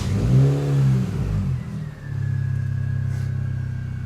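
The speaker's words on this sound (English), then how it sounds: "Let's start the car." A Mini Cooper S R53 engine cranks and catches, then settles into a steady, close idle that rumbles on to the end.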